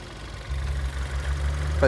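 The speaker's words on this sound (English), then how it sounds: "it's a tiny little engine. It was never going to have a massive note anyway." Small engine of a car at an Australian car auction idling with a low steady drone that steps up in level partway through, close by and fairly quiet, with a brief higher rise at the very end.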